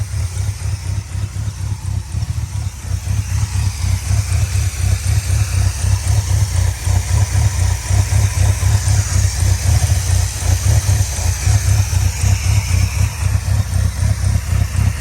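A 1965 Dodge Monaco with a 383 V8 idles steadily with a rough, slightly uneven rhythm and possible timing trouble, loud and close, with one brief dip near the start.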